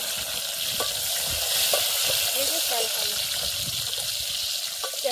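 Tomato goes into a hot frying pan and sizzles steadily, with stirring scrapes and short clinks coming through the constant frying hiss; a voice can be heard faintly.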